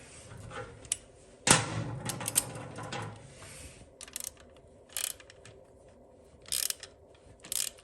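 Ratchet tightening a 13 mm bolt while installing a footpeg on a Harley-Davidson Touring motorcycle, heard as a few quick bursts of clicking spaced out over quiet background, fairly close.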